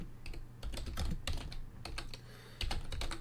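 Quick bursts of keystrokes rattle on a computer keyboard as notes are typed, irregular clusters of close, crisp clicks with short pauses between them and no speech.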